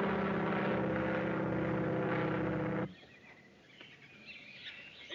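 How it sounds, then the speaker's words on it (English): A propeller airplane drones loudly overhead in a 1930s film scene, a thick steady engine roar that cuts off abruptly after about three seconds and leaves a quiet background. "That won't hurt you. It's only an airplane."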